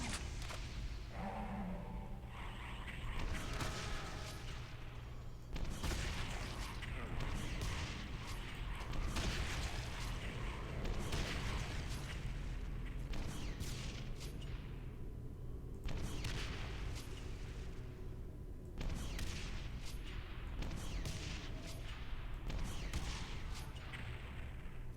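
Gunfire from Brutal Doom 64, the shotgun among the weapons, with loud repeated blasts and booming impacts across a dense, continuous barrage of game combat noise.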